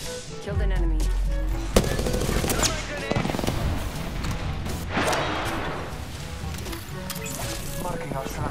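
Loud bursts of automatic gunfire from Apex Legends play in rapid volleys with sharp individual shots, mixed with crashes and impacts. A voice speaks over the shooting.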